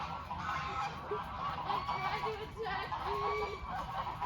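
Geese on a homestead honk loudly and repeatedly in a dense overlapping flock chorus, close by, with some people talking faintly underneath.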